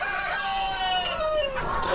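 Chickens in a poultry farm, with a rooster crowing in a long drawn-out call over steady clucking from many birds, loud and close with no talk over it.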